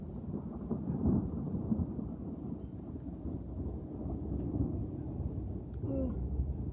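Thunder rolls in a low, sustained rumble during a thunderstorm, swelling and fading over several seconds with faint rain behind it and a brief small sound near the end.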